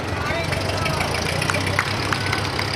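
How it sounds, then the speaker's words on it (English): A 1949 Ford 8N tractor engine runs steadily through a small-town sesquicentennial parade in Maroa, a continuous low rumble that carries under indistinct voices and crowd noise throughout. "He is representing the Maroa Lions Club, driving his 1949 Ford 8-in tractor, Mitchell Williams."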